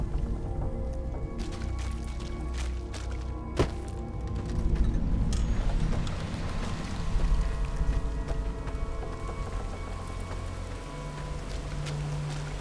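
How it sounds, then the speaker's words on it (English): Steady rain falls in the video game Fallout New Vegas, a continuous patter with a low rumbling bed and an occasional dull thud, with no voices. "It always rains here."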